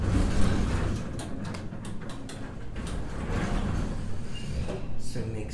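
A Fujitec traction elevator door in a Cincinnati Marriott building slides with a noisy rumbling scrape and a few knocks and clunks, fairly close and continuous, with faint talk in the background.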